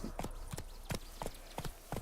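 Roach the horse in The Witcher 3 game trots along with hooves clopping in an even rhythm, about a dozen hard, distinct hoofbeats in quick pairs, moderately close.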